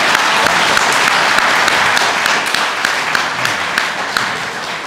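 An audience at a school ceremony in Mytilene, Greece, bursts into sustained, dense applause with many hands clapping at once, loud and steady before tapering slightly toward the end.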